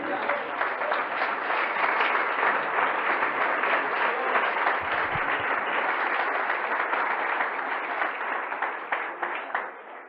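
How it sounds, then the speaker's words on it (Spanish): A church congregation claps in a long, steady round of applause, filling the room with dense, even clapping that continues without a break. "Démosle un aplauso al Señor"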